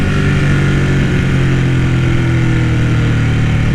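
A Ducati Panigale 899 sport motorcycle engine runs close and loud, a steady, even drone with no break.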